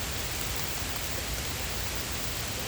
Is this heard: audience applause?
no